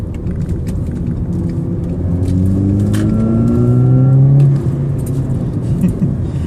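Loud car engine running while driving, its pitch rising steadily through acceleration before easing off, with a constant low rumble underneath.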